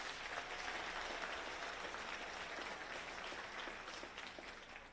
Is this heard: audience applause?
yes